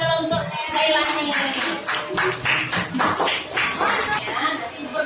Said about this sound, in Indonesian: tepuk tangan dulu untuk Jailani.